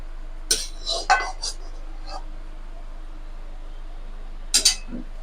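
A cooking pot of vegetarian omelette curry with kasuri methi clanks as it is lifted off the stove, a few sharp metallic knocks and clinks near the start, then quiet, then two more clanks near the end.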